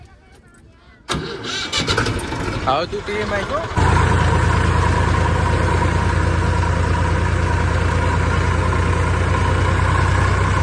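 A tractor engine sputters and catches, then settles into a loud, steady idle that runs to the end, with people talking over it at the start.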